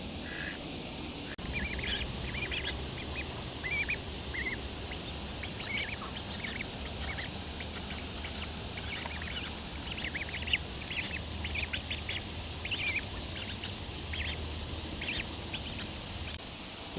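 Siberian wild ducks released onto a countryside pond quack in scattered, repeated calls at moderate distance over a steady outdoor background hiss, with no talking.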